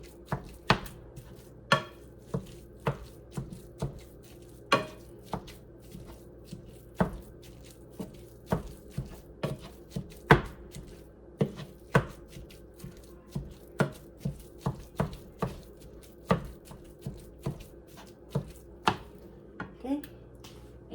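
Food being chopped on a cutting board for a taco bake: steady, close knife strikes repeat about once a second for the whole stretch, crisp and fairly loud, with no talking.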